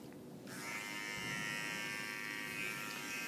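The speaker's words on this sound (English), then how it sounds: "I will be moving the clipper in different directions to give me this shape" Electric hair clippers buzzing steadily and close while tapering a neckline fade, a continuous motor hum that starts abruptly after a brief quiet moment and holds level throughout.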